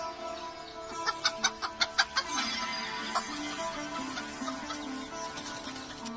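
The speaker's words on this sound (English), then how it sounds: "now the second animal, hen." A hen clucks close by in a quick run of sharp, loud clucks, followed by softer, drawn-out cackling calls with a faint rhythmic background tune underneath.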